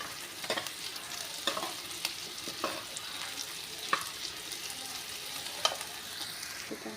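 Tadka tempering for tomato chutney sizzles in a pan, a quiet steady frying hiss broken by occasional sharp clinks and scrapes of stirring.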